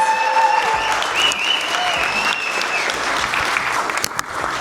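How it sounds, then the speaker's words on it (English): A crowd at a Women of the Year awards ceremony breaks into steady, loud applause, a thick wash of clapping hands joined by a brief high whistle-like tone early on, continuing evenly throughout. "Louder, please. Big round of applause."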